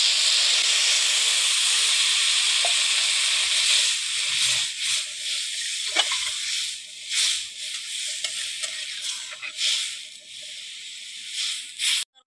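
Water poured into a hot pan of well-fried tadka masala for a dhaba-style curry bursts into a loud steamy sizzle and hiss that gradually settles into uneven bubbling and spitting.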